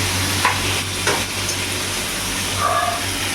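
Tomatoes and green chillies sauté in a pan as part of a home-style idli sambar and chutney meal, a steady broad sizzle running throughout with a few soft stirring scrapes and faint higher tones near the end.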